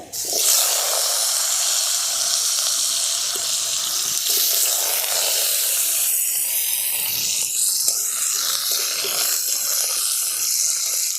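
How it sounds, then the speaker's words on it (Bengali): Diced potatoes frying in oil with panch phoron spices give a loud, steady, close sizzling hiss that runs unbroken through the clip. "এরপরে দিয়ে দেবো এই ডুমো ডুমো করে কেটে রাখা আলুগুলো প্রথমে আলুগুলোকে একটু হালকা করে ভেজে নেবো"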